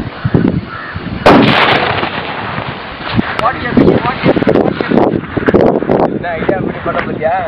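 A homemade firecracker bomb set off in a lake bursts with one loud, sharp blast, followed by splashing and rumbling aftermath as voices talk over it.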